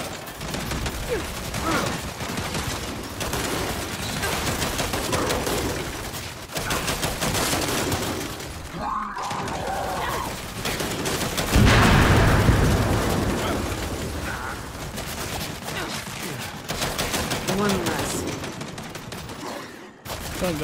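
Turret fire in the video game Gears 5 roars in sustained dense bursts with booming explosions layered throughout, loud and continuous across the whole stretch with only brief dips.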